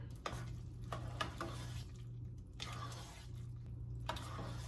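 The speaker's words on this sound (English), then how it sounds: "And mix that all together." Noodles and raisins are stirred into a vegan, gluten-free kugel mixture in a bowl, giving soft wet squishing and scraping strokes in an irregular rhythm, close and fairly quiet, with no talking.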